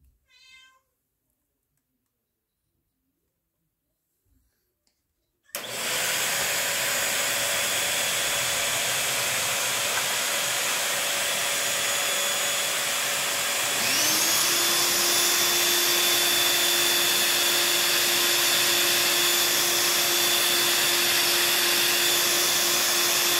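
A Bissell 3-in-1 and a Eureka Quick Up stick vacuum running, starting after a few seconds of near silence with a loud steady whine and roar, then a second motor joining partway through and adding a higher tone.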